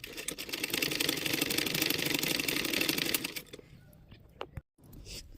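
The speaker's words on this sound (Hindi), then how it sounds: "इस तरीके से गले पे हम मशीन चलाएंगे" A sewing machine stitching along the neckline of a blouse, a fast steady whirring run for about three seconds, then stopping, followed by a few faint clicks and handling sounds.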